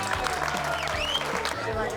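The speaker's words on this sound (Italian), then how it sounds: "Quindi un applauso a tutte le squadre in gara, veramente, bravissimi." An audience at a barbecue grilling competition applauds the competing teams, with steady clapping running throughout as a voice talks over it.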